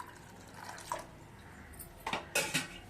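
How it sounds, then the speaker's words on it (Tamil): A few soft splashes and trickles of water land in a pan of onions, quiet, close, and brief, with no voices. "தண்ணி ஊற்றணும்."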